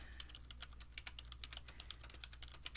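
Quiet, close typing on a computer keyboard while taking notes, a soft continuous patter of key clicks over a low background hum.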